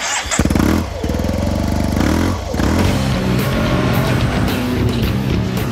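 A 125cc motorcycle weaves around cones on a practice lot, its engine loud and close, revving steadily with shifting pitch as it turns, no talk over it.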